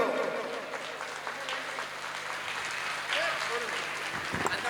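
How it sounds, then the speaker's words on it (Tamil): A standing audience at a Tamil Sangam Chithirai festival in Nashik claps together, continuous crowd clapping at a moderate distance with voices and a faint hum underneath, and a few louder claps near the end. "அனைவரும் எழுந்து கைதட்டுமாறு"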